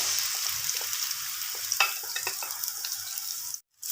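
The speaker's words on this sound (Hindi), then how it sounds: "अब हम इसको गोल्डन ब्राउन होने तक फ्राई कर लेंगे।" Onions fry in hot oil in a pan for degi chana pulao, giving a steady close sizzle with small stirring scrapes and crackles throughout, briefly cut off near the end.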